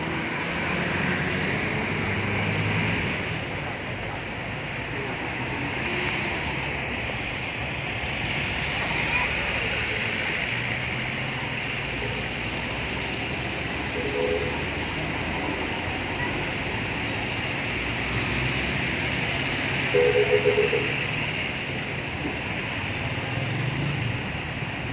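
Riding aboard an old Alexandria tram more than 80 years old, a steady rumbling roar of the car in motion carries wind noise and occasional rattles, with people talking faintly.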